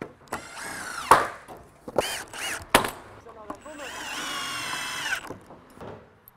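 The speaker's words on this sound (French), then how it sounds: "Et donc, on va le visser par-dessus." A drill driving a screw through a part into the wooden frame of a 70 mm log garage kit, with short whirring bursts and a longer steady run near the end, close up among tool clatter.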